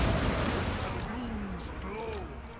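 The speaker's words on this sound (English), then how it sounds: "just let the organ guns rip them to shreds there" Organ guns in a Total War battle fire as a dense, continuous rumble of massed volleys, loud and washing together, with a voice talking over it.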